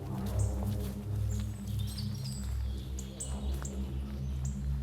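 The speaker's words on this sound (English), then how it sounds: "Birdsong fills the air." Birds chirp and call in the woods of the Chernobyl exclusion zone in Russia, with several thin, high tweets scattered over a low, steady hum.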